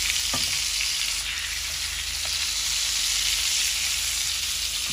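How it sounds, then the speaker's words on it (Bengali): Prawns fry in hot oil in a pan, producing a dense, continuous sizzling hiss that stays loud and steady throughout, with a couple of faint knocks near the start and no talking. "মাছটা বাজিয়ে চিংড়ি মাছ ভাজি গেছে"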